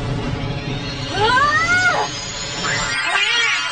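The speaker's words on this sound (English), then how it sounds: "Oh! Cat." A cartoon cat meows in an SMG4 animation, one drawn-out, rising then falling meow followed by a second fainter mew, heard clearly over a busy backdrop of other sound.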